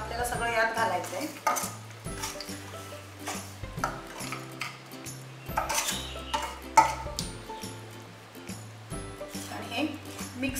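A spoon stirring a semolina mixture into sugar syrup for Raghavdas ladoo, producing repeated close metallic scrapes and clinks against the pan in an uneven rhythm, with a faint sizzle and a voice talking over it.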